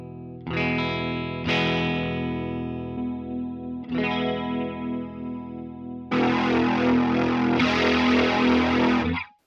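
Electric guitar through a Line 6 POD Express with modulation effects: sustained chords with chorus shimmer, then denser, distorted strummed chords toward the end, played alone with no talk.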